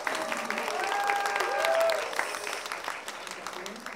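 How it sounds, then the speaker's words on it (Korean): A concert audience applauds, a dense patter of clapping that swells and then gradually thins out, with a faint tone briefly audible in the middle. "이 자리에 계실 수도 있는데 박수 한번."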